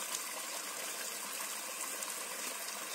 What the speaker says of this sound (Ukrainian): Це такий хитрий насос працює.